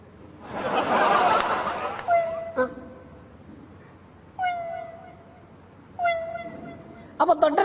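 A person's voice imitates a cat meowing beside women cutting fish, with three short rising-falling mews after a burst of breathy noise, fairly close and clear, then a brief chuckle at the end.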